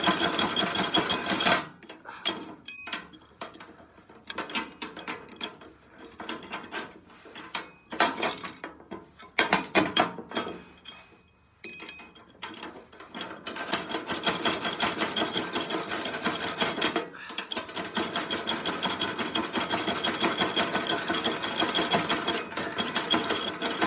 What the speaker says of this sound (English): I'm just gonna try to cut this bolt off.